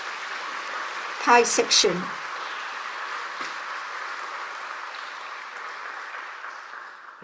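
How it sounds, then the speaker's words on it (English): Audience applause at the Pacific Dataviz Challenge 2025 award ceremony, a brief burst of clapping and cheering near the start that quickly fades, with a voice talking over the hall's background murmur. "On peut l'applaudir encore une fois."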